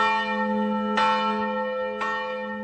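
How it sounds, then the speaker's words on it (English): Church bells in Catholic Poland ring out with two clear strikes about a second apart, each leaving a long sustained hum, heard alone with no talk. "Church bells ringing across heavily Catholic Poland."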